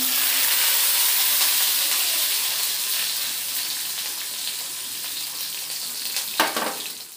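Garlic, with cumin and green chillies, sizzles in hot oil in a wok on a gas stove, a loud steady frying hiss that slowly fades, with a brief stirring clatter near the end and no talking.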